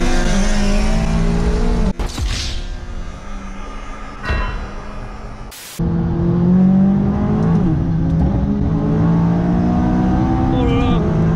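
McLaren 570S with an Armytrix exhaust, a loud engine revving and accelerating with rising and falling pitch and a brief cut partway, heard from close by.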